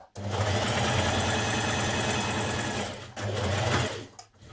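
Sewing machine stitching a jersey dress seam at a 1.5 cm allowance, a steady loud whirring run that pauses briefly near three seconds, then resumes and stops.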